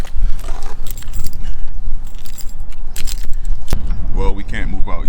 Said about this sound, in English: First, we have to find the keys to the mommy mobile.